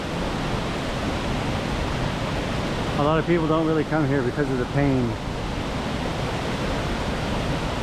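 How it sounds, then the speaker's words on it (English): Waterfall at Oneonta Gorge pours as a steady, broad rushing roar that fills the whole scene, with a person talking over it for a couple of seconds midway. "I have been under this waterfall before"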